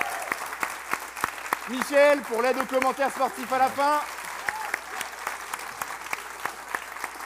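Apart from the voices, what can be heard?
audience applauding Brice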